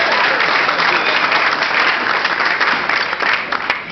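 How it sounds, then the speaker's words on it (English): An audience bursts into loud, dense applause that holds steady and then starts to thin near the end, with a few voices mixed in. "I think that's worth an applause."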